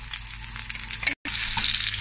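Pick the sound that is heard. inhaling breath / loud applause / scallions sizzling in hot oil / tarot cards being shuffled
scallions sizzling in hot oil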